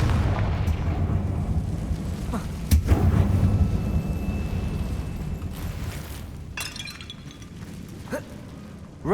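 A Confringo fire spell blasting in Hogwarts Legacy inside a closed mine tomb, a heavy booming explosion with rumbling low end that swells, then decays into lingering crackle and debris noise.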